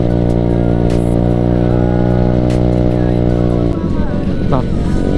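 Motorcycle engine droning steadily and loudly up close while riding the southern coastal route toward Santolo beach, its tone breaking up near the end as another bike passes on the Rancabuaya road.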